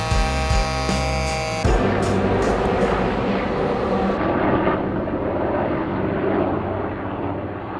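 Police and military helicopters fly overhead, a loud continuous roar of engine and rotor noise that fills the clip and slowly shifts in tone as they pass.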